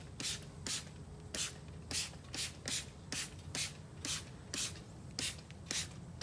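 Poorboys World spray and rinse is sprayed onto a filthy car wheel with 6-piston Brembo brakes, a steady series of about a dozen short, sharp hissing trigger-spray bursts, close and fairly quiet.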